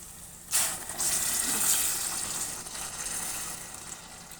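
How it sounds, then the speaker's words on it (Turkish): Water poured into a pot of winter soup with vegetables and bone broth, a steady rushing gush that starts abruptly and runs on evenly, close and fairly loud, with no talking. "Şimdi üzerine çıkacak kadar su ilave edeceğim."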